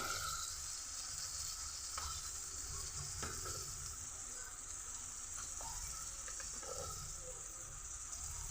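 Mutton curry being stirred in a pan after salt, turmeric and chili powder go in, with a steady background sizzle and a few soft scraping strokes of the spoon, close and fairly quiet.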